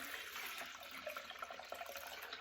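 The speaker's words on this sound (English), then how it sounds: "In my last bottle, I only had enough to fill it halfway. So, pour the rest in here." Kombucha pours into a bottle, topping it off from a brewing batch: a soft, continuous liquid trickle with faint gurgles, close and quiet, with no voices.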